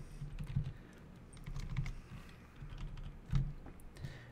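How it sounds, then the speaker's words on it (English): Fingers typing an address on a computer keyboard, quiet uneven bursts of key clicks with short pauses between groups, close and alone without talk. "I could type in a address."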